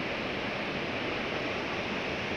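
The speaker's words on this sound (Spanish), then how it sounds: "y la cascada aquí enfrente de los cisnes." A waterfall in a park, set before a swan pond, gives off a steady, dense hiss of falling water, constant and moderately loud with no other sounds over it.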